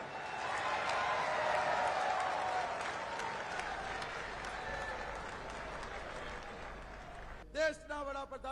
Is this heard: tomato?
no